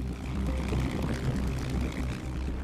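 Aircraft fly an airshow Heritage Flight that mixes historic and modern planes such as the F-86 Sabre, P-38 Lightning and P-51 Mustang, heard as a loud, sustained engine roar with a steady low rumble and no voices.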